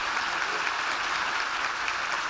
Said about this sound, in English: can we give a big round of applause to Liz Dunn, Ben Franz-Knight, and Liz Muller?